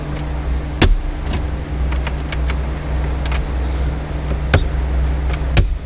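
Sharp plastic pops and clicks as dashboard clips pop off a Ram truck, a handful spread across several seconds, over a steady low idling hum.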